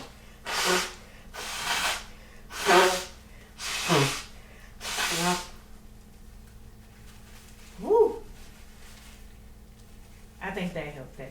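A series of five sharp, breathy sneeze-like bursts comes close and loud in a quiet room, followed by a short voiced sound and a softer spray of air.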